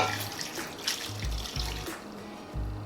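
Water splashes and gurgles steadily into a cooking pot, about a glass's worth poured in, with a few low knocks and clunks, close by and without any talking.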